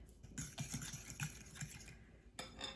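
Milk and salt are stirred together in a bowl, a faint utensil clinking and scraping in quick repeated strokes, close and quiet.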